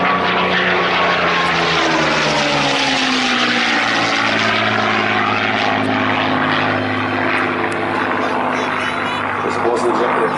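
A propeller-driven warbird, likely a Spitfire or its wartime rival, roars loudly and steadily past at the Warbirds over Wanaka airshow, its engine note rising and shifting as it passes and pitches up, with a commentator talking over it.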